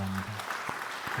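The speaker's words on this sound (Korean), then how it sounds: "그런 마음으로 박수 한번 해주시기 바랍니다" A church congregation claps together during a Sunday service, a steady broadband patter lasting about a second with a couple of louder individual claps and a faint voice underneath.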